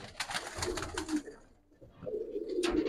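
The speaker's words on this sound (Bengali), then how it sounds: "সুন্দর বাঘা, সিলভার বাঘা মাখরা কবুতরের কোয়ালিটি, কবুতর দেখেন" Giribaz pigeons in Old Dhaka cooing close by, soft repeated throaty coos in a short burst, a brief lull, then more cooing, with faint rustle around them.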